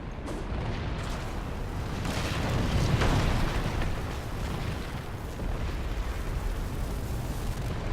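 A video-game explosion in Darksiders 2 sounds as a broad, rumbling blast that swells to a heavy peak midway and then settles into a lingering roar, with no talk over it.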